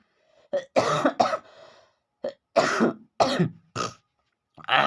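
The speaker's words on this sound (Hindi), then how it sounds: "खांसी का समय है दोस्तों, माफ करिएगा" A person coughs repeatedly in short, harsh bursts with brief silent gaps between them, close and loud.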